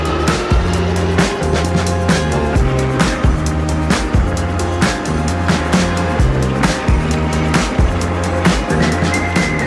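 Ariel Grizzly e-bike riding on throttle over bumps and pavement cracks, a steady close rumble with sharp repeated knocks and rattles as the wheels hit cracks, continuous and fairly loud.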